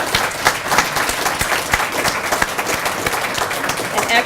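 Sustained applause from an audience at an award ceremony fills the room with dense, even clapping, loud and continuous, without letting up.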